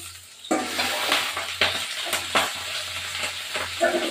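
Leaves frying in a hot pan, a steady sizzle broken by several loud stirring scrapes at irregular intervals.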